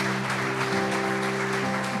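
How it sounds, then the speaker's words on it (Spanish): A church congregation claps during a sermon service, a steady wash of applause over a sustained held musical tone in the background. "Dale un aplauso a Jesús."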